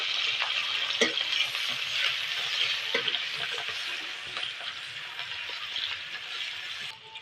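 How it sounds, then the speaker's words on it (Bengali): Chopped onion fries in white oil in a wok for egg chowmein, giving a steady, bright sizzling hiss with occasional stirring clicks and scrapes. It stays fairly even throughout and fades near the end. "কড়াই তেল দিয়ে দেবো সাদা তেল কুচিয়ে রাখা পেঁয়াজ একটু নেড়ে দেবো"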